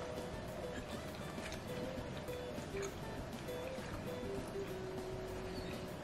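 Tap water runs steadily while chiles are rinsed and prepared for chiles con queso in a home kitchen, a continuous close splashing rush with faint tonal hum underneath and no talk.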